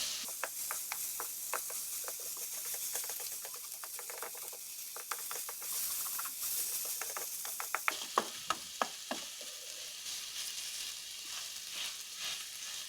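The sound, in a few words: radish chutney frying in a pan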